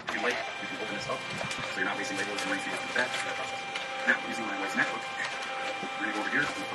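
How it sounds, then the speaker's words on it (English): A printer runs off a shipping label indoors, giving steady mechanical whirring with faint clicks and a few louder ticks over a low hum, while a person talks nearby. "I'm going to get it printing."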